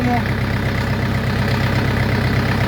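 A steady low Orion 404 tractor engine idles throughout with a constant rumbling throb, close and continuous.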